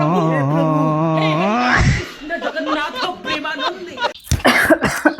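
One person gives a short, harsh cough after sustained voiced sound, followed by chuckling and talk, with another rough burst near the end, close and loud.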